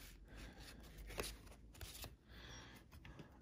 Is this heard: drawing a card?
yes